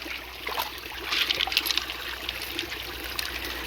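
Creek water trickles and splashes over rocks in a steady outdoor babble, close and continuous, with slightly louder gurgling bursts in the middle and no voices.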